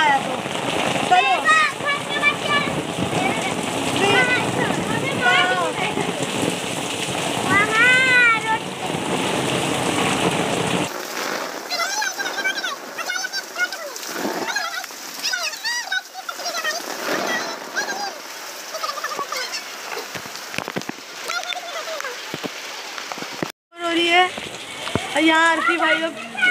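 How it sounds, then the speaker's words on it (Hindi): Heavy rain pours down during a street procession, a dense continuous hiss and patter of drops heard close by, with voices talking and calling over the downpour throughout. "बहुत जोर बारिश हो रही है"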